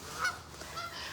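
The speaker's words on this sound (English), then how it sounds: "We got lots of geese out this morning, talking and making some noise" Geese honking outdoors in the morning, faint distant calls over a steady ambient hiss, a couple of short honks drifting in.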